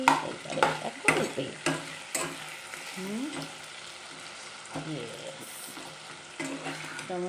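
Chopped tomato with salt sizzles in a frying pan while a spoon stirs and scrapes it in repeated strokes, the frying hiss steady beneath the clinks.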